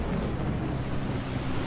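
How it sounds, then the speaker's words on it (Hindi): River waves rise and surge quickly in the distance, a steady, dense rushing wash of water with a wind-like hiss, brief and without any voices. "दूर नदी में लहरें तेजी से उठने लगी थी।"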